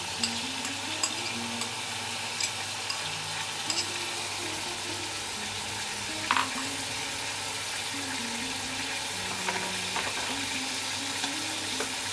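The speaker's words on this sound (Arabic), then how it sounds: "غنرمي دابا غير البصله اللي غادي تقلي ليا دابا الدجاج" Onion frying in a pan ahead of the chicken for a Moroccan chicken pastilla, a faint, soft sizzle with occasional light stirring over a low steady hum, no speech.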